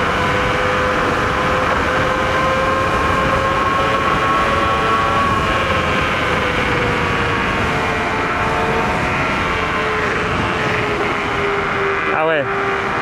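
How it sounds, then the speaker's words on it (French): A TGV high-speed train rumbles past with a steady broadband roar and sustained tonal whine, heard continuously from nearby while someone rides a scooter, with voices talking over it and a brief swooping tone near the end. "Ah, le TGV!"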